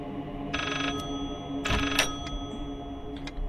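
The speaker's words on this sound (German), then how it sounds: "Achso, ja, das Telefon." A telephone rings in the horror video game Layers of Fear, giving two short bursts of bright electronic ringing over a quiet, low ambient drone.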